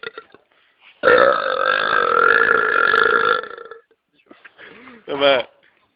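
One long, loud, deep burp lasting over two seconds, then a shorter burp a moment later, with faint chatter and laughter from Italian friends around them.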